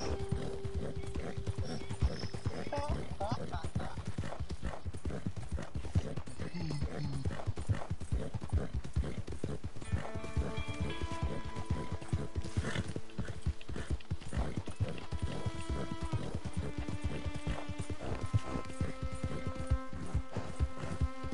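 In the Red Dead video game, horse hooves clip-clop in a steady trotting rhythm while a horse neighs and whinnies, with game music swelling in the background and a player talking over it at times.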